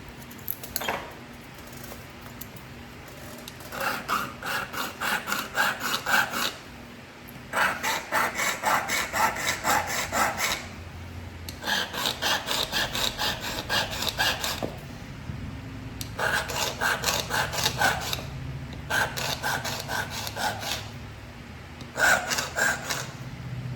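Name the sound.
sharpening something by rubbing or filing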